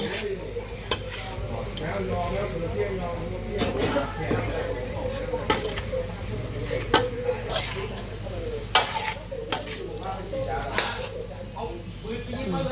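Shallots stir-fry in a pan for a squid curry powder dish, giving a steady, soft sizzle broken by repeated scrapes and clinks of a utensil against the pan, with a person talking over it.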